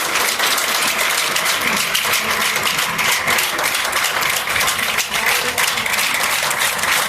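Sustained applause from a crowd of young people at a church youth seminar, dense steady clapping filling the room for several seconds without letting up.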